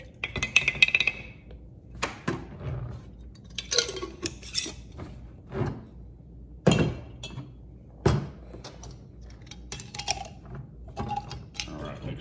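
Jam wasp bait is stirred in a container, giving intermittent clinks, scrapes and hollow knocks of a utensil against the sides, close up and separated by short quiet gaps.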